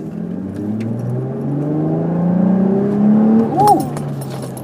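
A 2005 Infiniti 350GT engine revs up hard, its pitch climbing steadily as it accelerates, loud and close, with a brief whine near the end.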